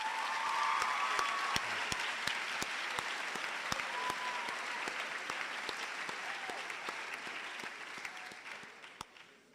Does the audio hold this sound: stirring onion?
no